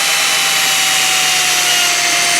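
An X-Acto knife cuts into a foam RC car tire spinning on a drill, giving a steady, uninterrupted whirring rasp that holds at an even level throughout with no talking.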